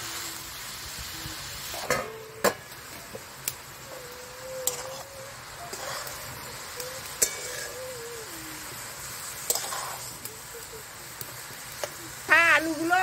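Cabbage and peas are stirred and fried in a pan: a low steady sizzle broken by sharp scrapes and knocks of a spoon against the pan, with a voice speaking quietly in the background.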